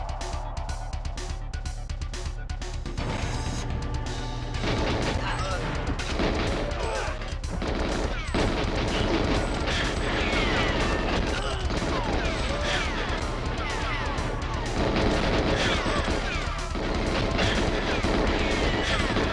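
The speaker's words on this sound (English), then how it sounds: "Everybody's firing at me." Video game gunfire rings out as enemies shoot at the player, a dense, loud, sustained barrage of shots and crashes running throughout over a rumbling backdrop.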